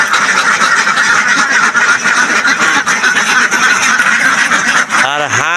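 Many farm ducks quack together in a thick, unbroken din that stays loud and close throughout, with a brief voice-like call near the end.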